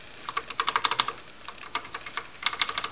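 Typing on a TRS-80 computer keyboard being tested for dead keys: irregular bursts of crisp, close key clicks with short pauses between groups, alone with no talk.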